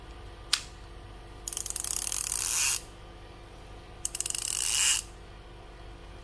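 A Daiwa Tatula SV TW 8.1 baitcasting reel, freshly tightened after a repair, gives two bursts of rapid ratcheting clicks, each about a second long and rising in pace, with quiet gaps between them.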